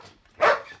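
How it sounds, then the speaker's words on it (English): A dog gives a single short, loud bark, with quieter room sound around it in a comedy TV scene. "Now, that's not a baby dog."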